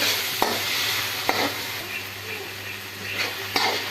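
Tomatoes frying in oil in a pan for dhaba-style pasta, a continuous close sizzle broken by several scraping stirs of a spoon, with no talk.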